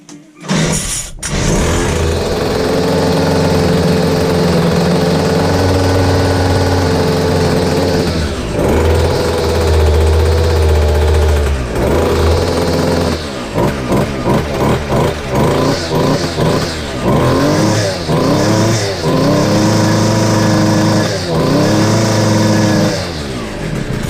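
The small two-stroke engine of a McCulloch MT 320 runs loud and close after a carburettor tune, idling with a buzzing drone and revving up and down several times.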